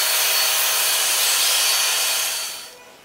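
Aluminum radar mount part being machined at 1115 RPM, a loud, steady broadband cutting hiss that holds for about two and a half seconds, then tapers off and fades near the end with no talking.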